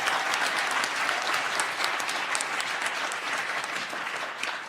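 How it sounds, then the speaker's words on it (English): An audience at a live music performance featuring a singer and saxophonist breaks into sustained applause, a dense, even roar of clapping hands filling the room for several seconds without any talk over it. "let's give Jason an applause"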